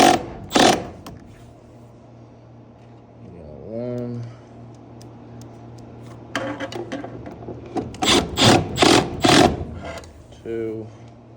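A power drill drives screws into an HVAC unit cover, with several short whirring bursts in quick succession and a motor hum, between stretches of quiet.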